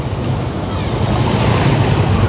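Loud, continuous rushing of overflowing flood water from the Srengseng river with a broad roar, steady throughout with no pauses, close by and heard without voices.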